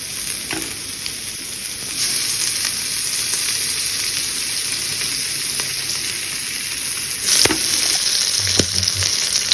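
Beef steak frying in butter in a pan, a steady close sizzle running throughout with a few sharper crackles and spatters near the end.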